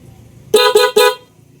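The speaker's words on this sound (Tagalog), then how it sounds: "Tumutunog yung horn na stock." Stock horn on a motorcycle honks three times in quick succession, loud and close, each blast short with a brief gap between, then quiet.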